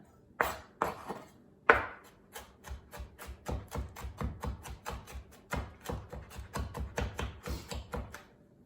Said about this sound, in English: You wanna get this really minced up as finely as you can, so that every little piece of your mini spinach patty gets some garlic flavoring in it.